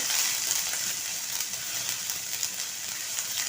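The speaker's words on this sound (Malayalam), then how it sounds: "വെളുത്തുള്ളിയും ഇഞ്ചിയും ഈ എണ്ണയിൽ കിടന്നൊന്ന് ചൂടായി വരട്ടെ" Crushed garlic and ginger frying in hot oil in a pan, a steady close hiss and crackle of sizzling with no talk over it.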